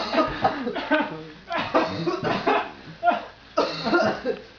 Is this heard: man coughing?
yes